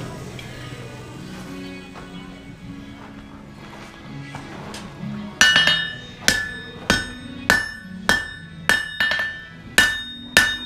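A smith hammers a hot knife blade flat on an anvil at a Wild West City forge in Netcong, New Jersey: after quieter shuffling, about ten loud ringing metallic blows land in an even, unhurried rhythm.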